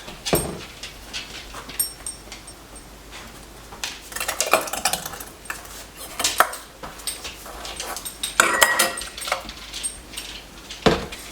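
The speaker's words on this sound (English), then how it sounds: "I'm going to start filling our jars" Glass jars being filled with hot strawberry preserves, with scattered clinks of glass and metal, a ladle tapping rims, and soft scraping spread irregularly across a quiet kitchen.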